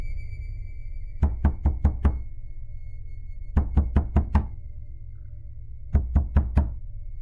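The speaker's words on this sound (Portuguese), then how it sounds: "Comecei a ouvir batidas surdas na porta da frente, fortes e ritmadas." Heavy, muffled knocking on a front door comes in three forceful bursts of four or five rhythmic blows, separated by quiet pauses, close and loud against a low background hum.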